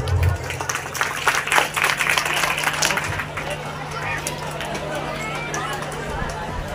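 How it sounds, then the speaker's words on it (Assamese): An audience at a quiz programme in Arikuchi Bhatheli claps for the organisers, a burst of close applause with a busy crowd murmur that fades after a few seconds into a softer hubbub. "লগতে পুনৰ আপোনালোকক কুইজলৈ স্বাগতম জনাই আয়োজকৰ বাবে এজাৰিৰ হাত চাপৰি"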